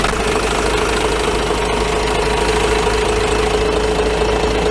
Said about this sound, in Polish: Jedno muszę o tych silnikach powiedzieć. Każdy odpala po prostu jak na dotyk.